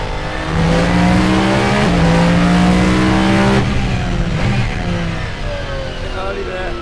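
A car with an extremely loud exhaust revs hard and sustains a roaring, droning engine note, very close and overwhelming, shifting pitch as it accelerates and then settling lower.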